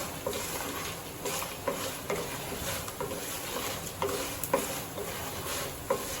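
Seasoning fries in a pan for raw tamarind rice, giving a steady, fairly loud sizzle with repeated stirring scrapes of a spoon against the pan throughout and no talking.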